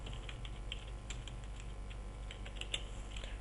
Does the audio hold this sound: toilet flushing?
no